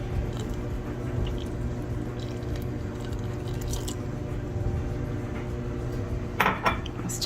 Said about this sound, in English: we're gonna stir it pretty much constantly